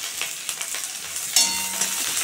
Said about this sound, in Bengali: ডালের ফোড়নে একটু পেঁয়াজ দিলাম।